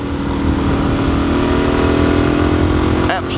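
A motorcycle running steadily on a road, a loud sustained engine drone mixed with rushing wind noise that stays level throughout before easing slightly at the very end.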